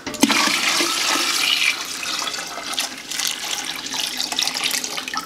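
Diluted apple juice pours and splashes steadily from close by during homebrewing, a continuous rushing gurgle with no talking.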